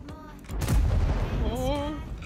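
Gunfire aimed at the player in a tank video game: a loud, booming shot hits about half a second in and rumbles on under scattered voices.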